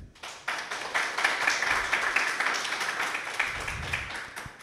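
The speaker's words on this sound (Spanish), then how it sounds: "Un aplauso por favor para Jimena." A studio audience applauds Jimena Sánchez of San Isidro's innovation and open government program as she is welcomed onto a talk show; steady, moderately loud clapping fills the space and fades toward the end.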